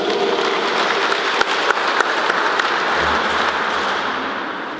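A Catholic congregation at mass applauds together, a dense sustained wash of clapping from many hands in a reverberant room, fading slightly at the end.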